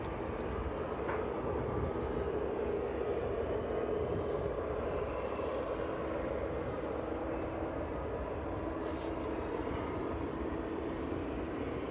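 Boeing 767 airliner on final approach to runway 27 at East Midlands Airport, a distant steady engine roar and rumble filling the air continuously without pause.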